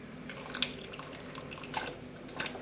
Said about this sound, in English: Any drips of water, just let it go in there as well.